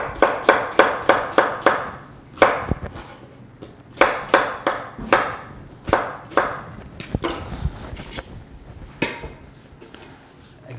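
Rough chopping of carrots, onion and ginger for soup: a knife strikes a cutting board in quick close runs of sharp, even knocks, pausing briefly between bursts.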